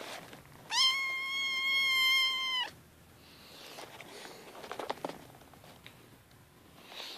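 A hungry cat meows for food in the morning: one long, loud, drawn-out meow close by, followed by quieter rustling and light patter, with no talking.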